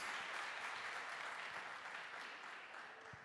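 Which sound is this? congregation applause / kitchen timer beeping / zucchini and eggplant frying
congregation applause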